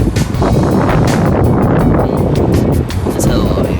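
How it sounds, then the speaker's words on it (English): Strong, cold wind outside Union Station in DC buffets the microphone in a steady, loud roar with rough gusty swells throughout, with no other clear sounds. "I don't know why it's windy."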